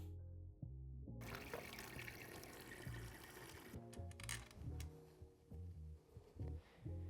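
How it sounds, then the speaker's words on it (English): Coolant drains from a Honda CRF450R motorcycle, a steady trickle of liquid close by with faint mechanical tones underneath. "first thing we're going to do is drain our coolant"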